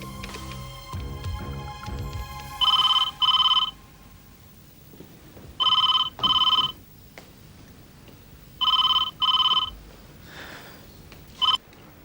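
A phone rings in repeated double bursts, four pairs of electronic trills spaced evenly, with faint background noise between them.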